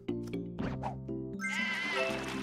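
Cartoonish sheep bleat repeatedly in the puzzle game Divide By Sheep, several short wavering calls over a bright, steady game music bed.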